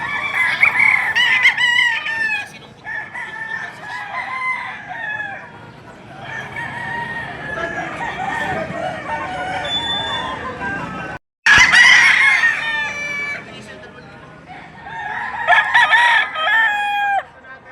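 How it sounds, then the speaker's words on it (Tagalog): Roosters crow repeatedly and hens cluck at the Tuesday poultry market in Padre Garcia, several loud nearby crows overlapping a busy background of fowl and crowd murmur, with a brief cut partway through. "Yan yung mga manok dito sa Padre Garcia tuwing araw ng Martes."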